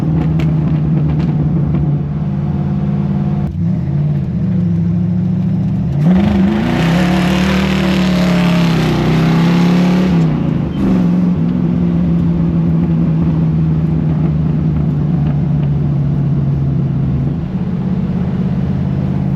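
A 1968 Ford Mustang engine, running rough and in need of tuning, idles with a loud steady rumble close by, then revs up twice in the middle before settling back to idle.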